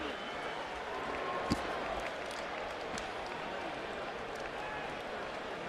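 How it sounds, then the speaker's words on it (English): A boxing arena crowd in Las Vegas murmurs and stirs with mixed reaction after Mayweather's lopsided win over Baldomir, a broad, steady roar of voices with scattered claps and one brief thump. "A mixed response from the crowd after a whitewash domination of Baldomir by Mayweather."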